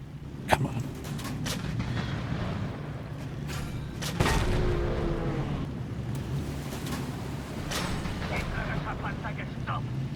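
Tank cannon fire in a World of Tanks-style battle game, with a sharp boom near the start and another heavy blast around the middle over a constant rumbling engine bed, with German in-game voice callouts and player talk.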